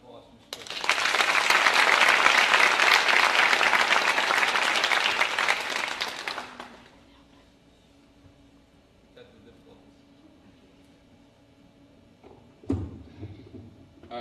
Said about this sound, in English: So a big round of applause for Mr. Terpstra.